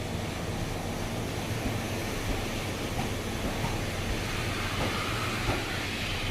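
Train at Shimo-Imaichi station, bound for Shin-Fujiwara via Kinugawa Onsen, rumbles in a steady, loud, continuous drone with faint hissing and mechanical rattle throughout.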